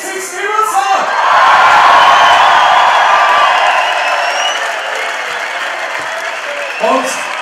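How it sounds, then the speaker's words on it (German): Big applause from a crowd at a Weißbierfest beer festival, loud sustained clapping with some cheering and whoops, swelling early then slowly fading, with voices speaking at the start and end. "Allein das ist schon ein riesen Applaus hier"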